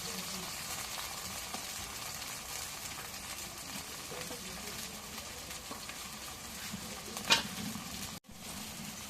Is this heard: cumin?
yes